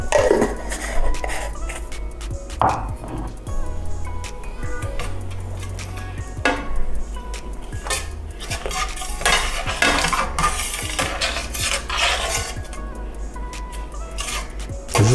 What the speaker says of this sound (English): Stir that in really good.